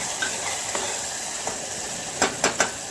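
Spice masala roasting in oil for pressure-cooker mutton biryani, a continuous close sizzle with light stirring scrapes that pick up into three sharper strokes near the end.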